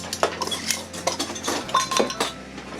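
Metal canning jar bands clink and clatter against each other close by while being gathered for home-canned spaghetti sauce, a busy run of bright chinks and jangles with no talking.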